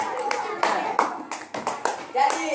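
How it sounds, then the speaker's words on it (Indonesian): A class of children applauds a classmate with quick, uneven hand clapping that rises and falls in bursts, with young voices mixed in throughout. "Turut tepuk tangan untuk Sinan."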